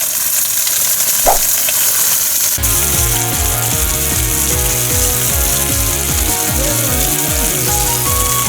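Food pan-frying in a shallow layer of oil over medium-low heat, a constant bright sizzle that swells suddenly partway through, with faint music running underneath.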